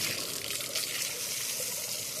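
Lawn sprinkler spraying water across a yard on a hot day, a steady close hiss of spray with a faint watery patter, no voices.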